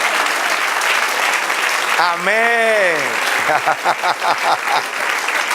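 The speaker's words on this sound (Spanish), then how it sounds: "Denle un aplauso al Señor" Church congregation clapping in broad, steady applause, with a man's sung or drawn-out voice rising over it midway and people calling out as the clapping continues.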